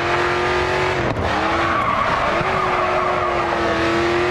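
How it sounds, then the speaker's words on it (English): A race car drifting in the video game Grid 2, its engine roaring loudly and constantly while the tires squeal and skid through the slide, with a short dip in the middle of the run. "Continue to turn and the back end will begin to slide out. You'll need to get back on the gas to carry the drift."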